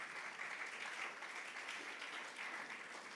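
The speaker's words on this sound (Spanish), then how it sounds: "¿Puedes darle un aplauso al Señor?" A church congregation claps in steady, uniform applause, a broad wash of hand claps heard at moderate distance and sustained without pause.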